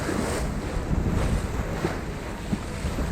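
A sailboat under way on the Mediterranean between Cyprus and Port Said, with steady wind rushing across the microphone over continuous wash of water against the hull and no talk.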